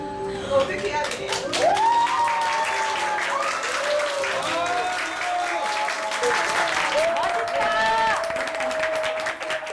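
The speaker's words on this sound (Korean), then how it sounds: "이게 얼마 만에 들어보는 환호인지" A professional baseball crowd cheers and applauds in a stadium, a dense wash of clapping and rising shouts with whistles and chant-like voices swelling repeatedly throughout.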